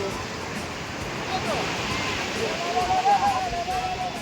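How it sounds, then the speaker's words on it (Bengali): Sea waves at the beach in Puri roll in as a steady broad wash of surf, close and fairly loud, with wind noise and people talking in the background. "কি সুন্দর সমুদ্রের ঢেউ।"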